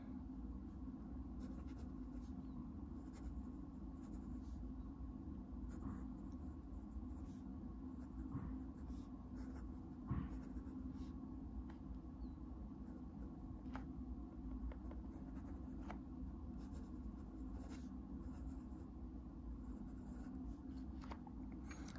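A fountain pen's nib, a Pilot Custom 823 filled with Pilot Blue ink, writes on paper in a faint, continuous soft scratch with small strokes and lifts, heard close up and steady over a low room hum with no talking.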